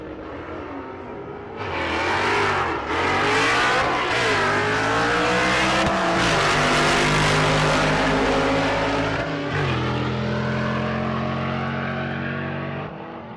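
A 1998 Chevy Camaro launches at a drag race and screams down the lane, its engine rising in pitch through several hard gear changes, loud and close, then fading as it pulls away.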